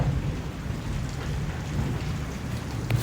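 Steady rain pours through a thunderstorm with hail, a dense continuous hiss with low rumbling underneath, holding at an even level throughout with no talking.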